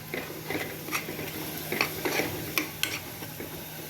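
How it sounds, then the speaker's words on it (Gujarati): Chopped green fenugreek leaves being stirred into a Kashmiri paneer chaman curry, with a spoon scraping and clinking against the pot in a few light, irregular strokes over a low steady hum. "આપણે તેમાં લીલી મેથી ચોપ કરેલી છે એ એડ કરીશું અને તેને મિક્સ કરી દઈશું"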